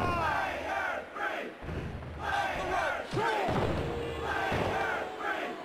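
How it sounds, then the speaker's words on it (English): A large crowd roars and cheers in the WWF War Zone wrestling video game, a dense, loud wall of voices that swells and dips in waves, with occasional thuds underneath. "The crowd is on its feet. I can hardly hear myself talk."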